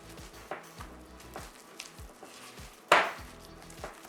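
Sticky keto bagel dough of egg and powder stirred in a bowl, with a series of soft, wet knocks and scrapes recurring about every half second and one sharper louder clack near the end; no talking.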